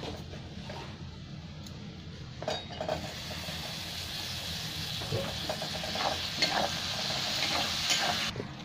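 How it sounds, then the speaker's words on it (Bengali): Ground spices and chopped tomato sizzle quietly in a pan for egg biryani, with a soft steady frying hiss and occasional light clinks and scrapes of a stirring utensil. "মশলাটাকে একটু ভালো করে ভেজে নেব।"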